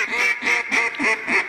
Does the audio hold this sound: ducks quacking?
yes